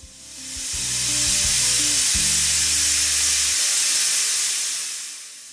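A pressure cooker vents steam after boiling meat with potatoes and papaya on a gas stove: a loud, steady hiss runs throughout, with a low humming drone underneath for the first few seconds.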